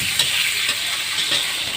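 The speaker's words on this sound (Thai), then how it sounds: "วันนี้เราก็ หั่นหมูยอเป็นขนาดตามที่ต้องการนะคะ แล้วก็เอาไปผัดกับ กระเทียมเจียวค่ะให้หอมๆ เลยนะคะ" Sliced Thai pork roll (moo yor) stir-fried with fried garlic, ahead of adding long beans, makes a close, steady sizzle with brief scraping stirs recurring every half second or so.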